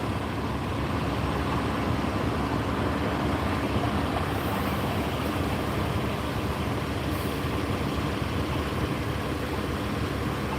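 A city bus is heard outside as a loud, continuous rumbling engine roar that holds steady for several seconds without talking.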